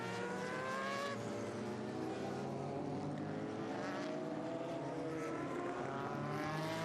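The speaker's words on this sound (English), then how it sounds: "Zak Brown going through in that Silk Cup Jaguar." A Silk Cup Jaguar XJR8 Group C prototype race car drives a track during a historic 1980s sports-prototype race, its engine a faint, sustained whine that slowly rises and falls in pitch at a distance.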